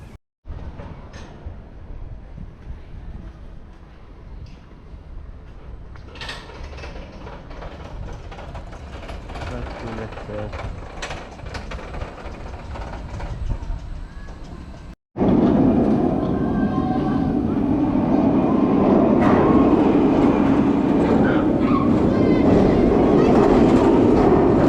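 The Speed roller coaster at Oakwood theme park: a rattling, clattering run along the track, then a sudden loud roar of wind and rumble that fills the second half.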